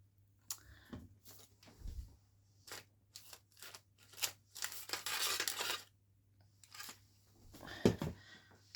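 A pair of scissors cutting through card during a paper craft project, giving a series of short crisp snips and slicing strokes, with one longer continuous cut partway through, close and fairly quiet, with no voices.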